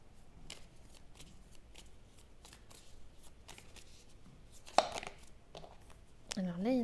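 A deck of tarot cards being shuffled in quick bursts of soft riffling and sliding, ending in a louder flurry of card handling, with faint background sound throughout.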